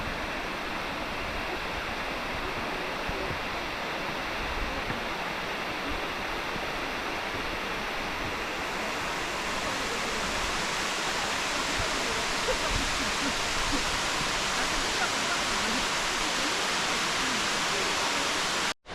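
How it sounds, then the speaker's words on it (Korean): A waterfall beside a mountain trail in Seoraksan, heard during a rainy hike, roars as a loud, steady rush of broadband water noise. It continues unbroken and dominant throughout. "아쉬운 마음에 데크 계단에서 나무에 가려 많이 아쉬웠던 여폭의 모습을 보충 촬영했다"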